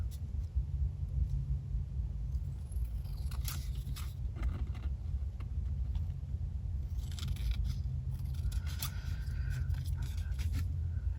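Scissors cutting the edge off an art journal page: a few crisp snips and paper scrapes over a steady low background hum.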